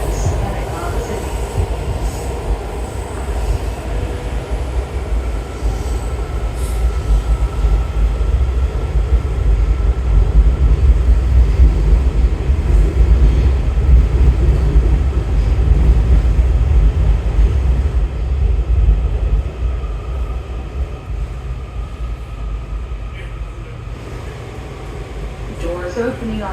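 A DC Metro Blue Line train runs toward Franconia-Springfield past Pentagon City, heard from inside the car as a loud, continuous rumble of wheels and motors that swells in the middle and eases toward the end.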